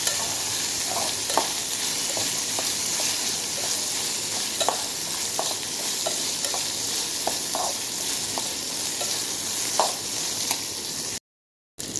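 Tomatoes fry and sizzle in a pan with a steady hiss, while a spatula stirs and scrapes with intermittent clinks and taps against the pan, with no talking.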